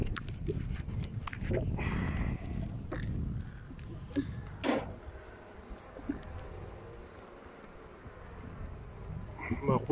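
Drone honeybees buzz at an open hive frame in a steady insect hum that swells and fades, with occasional clicks and handling knocks close by.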